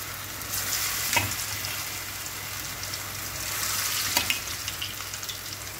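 Onion pakoras made with gram flour and boiled potato frying in hot oil, giving a continuous bright, close sizzle with a couple of sharper crackles.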